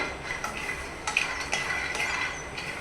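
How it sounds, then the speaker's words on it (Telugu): Peanuts are dry-roasted on their own in a pan over a low flame for stuffed brinjal curry, with light clinking scrapes and rattles as they are stirred, close and moderately soft in an irregular rhythm. "ముందుగా పల్లీలని వేరుగా లో ఫ్లేమ్లో ఇలా వేపుకోవాలి"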